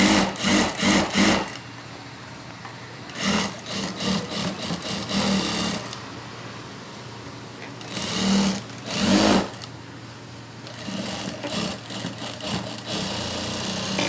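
An electric sewing machine double stitching a tight-fitting blouse runs in several short bursts of rapid mechanical whirring, separated by quieter pauses with a low hum, close and clear with no talking.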